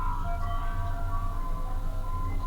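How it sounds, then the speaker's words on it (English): Ice cream truck jingle, a tinkling melodic tune heard from a distance, steady and moderately loud over a low rumbling vehicle engine. "That's an ice cream truck."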